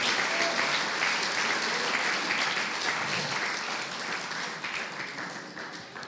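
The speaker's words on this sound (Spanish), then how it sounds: "Dale un fuerte aplauso a Jesucristo." A church congregation breaks into loud, sustained applause during a sermon, dense clapping from many hands that fades slightly toward the end.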